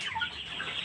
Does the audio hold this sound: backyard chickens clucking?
yes